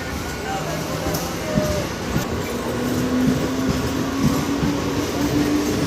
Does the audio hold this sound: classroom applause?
no